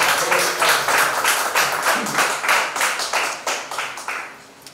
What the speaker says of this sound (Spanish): un aplauso para ti